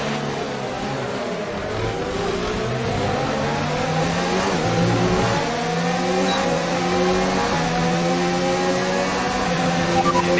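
Formula 1 racing car engine from F1 2019 at the French Grand Prix, a loud continuous high-pitched whine rising and shifting through gears, steady and alone with no talk over it.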